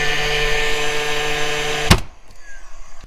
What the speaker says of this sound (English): we're just going to brad it right to the top